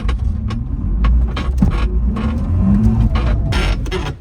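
A homemade micro rail camper rolls along abandoned railroad track at night on newly fitted wheels, giving a steady close rumble with repeated sharp clicks and clacks over the rail joints.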